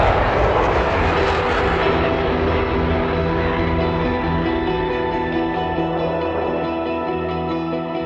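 An XB-1 supersonic jet climbs in flight, giving off a loud, steady roar of engine noise throughout with no breaks.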